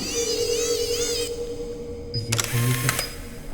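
A camera fires a few quick shutter clicks close by, a short cluster of sharp snaps after a quieter stretch of faint background sound.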